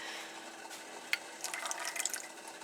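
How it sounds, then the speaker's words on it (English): Vanilla extract is poured into a chocolate mixture, a faint liquid trickle with small splashy ticks and a light clink, quiet and close. "I'm going to put a splash of vanilla in here."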